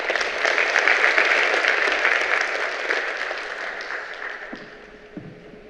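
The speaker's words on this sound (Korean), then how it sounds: "큰 박수로 맞이해 주시기 바랍니다." Audience applause welcoming the Incheon Metropolitan Council chairman at the opening ceremony of the 2022 Korea Smart Water Grid academic conference: a dense, steady burst of clapping from a hall full of people that gradually thins and fades toward the end.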